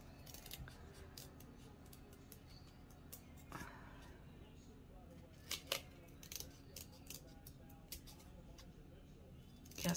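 Scissors snip through paper at close range while kitting up a diamond painting canvas, a quiet run of crisp, irregular cuts with brief pauses over a low steady background.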